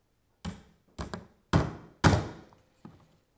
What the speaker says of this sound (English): then drive the pin in place